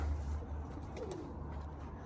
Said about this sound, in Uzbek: Bu ham mana har doimgidek trenddagi kaptarlardan ekan